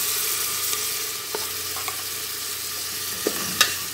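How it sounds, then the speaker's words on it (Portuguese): Tomato and garlic sauté with vegetables in a pan for a chicken cream dish, a constant close sizzle broken by several light scrapes and taps of a stirring utensil, with no voices. "E vou continuar refogando essa verdura"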